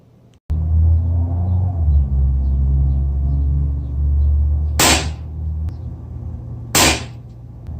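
Two sharp .22 air rifle reports fired with PBA pellets during a 10-meter accuracy test, about two seconds apart, each a crisp crack over a steady low background rumble.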